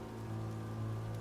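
Steady rain ambience behind a tabletop role-playing game session, a continuous even patter of rain on a surface with no voices, holding at a constant level throughout.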